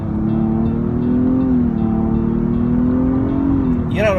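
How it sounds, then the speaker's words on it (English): A 2016 Nissan Maxima's 3.5-liter V6 engine hums with a steady, sustained drone heard from inside the car, loud and continuous, with a brief voice at the very end. "the V6 actually sounds pretty good too"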